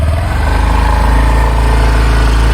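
An Activa scooter engine runs loud and close in a steady idle, a low droning hum that holds evenly without pauses.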